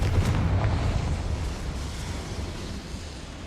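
Confringo, a fire spell, bursting in Hogwarts Legacy, a video game, with a roaring, rushing blast that swells at the start and then fades into a long, noisy, surf-like rumble over several seconds, with no talking.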